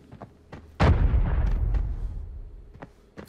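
A blast goes off inside a building in the shooter game Arena Breakout, one loud burst that rolls into a rumbling decay lasting about two seconds, with faint clicks and footsteps before and after.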